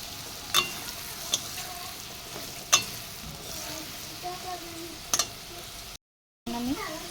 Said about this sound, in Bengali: লঙ্কা গুঁড়ো, জিরে গুঁড়ো, হলুদ গুঁড়ো, লবণ, ধনে গুঁড়ো দিয়ে একটু নাড়াচাড়া করে